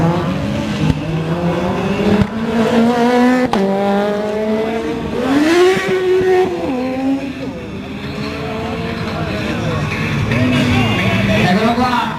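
Rally cars with sequential gearboxes launch at a motorsport fair show, engines rising in pitch through stepped gear changes and loud backfires, with a commentator talking over them throughout.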